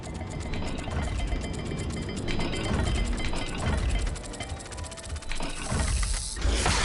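Clicking, ratcheting turns of a dial lock mechanism in Hogwarts Legacy, a steady run of mechanical ticks and gear clatter over a low ambient hum, fairly close.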